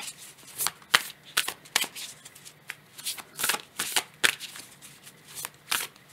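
Rose Oracle deck cards shuffled by hand in a quiet room, a run of crisp riffling snaps and soft slides in irregular bursts, close and fairly loud, with no talking.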